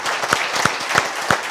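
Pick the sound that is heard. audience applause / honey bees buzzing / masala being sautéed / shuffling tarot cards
audience applause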